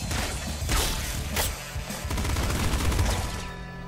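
Laser pistol fire in the top-down shooter Nuclear Throne: a dense, continuous barrage of loud, rapid shots and mechanical clatter with a few sharper bursts, filling the whole stretch without any voice.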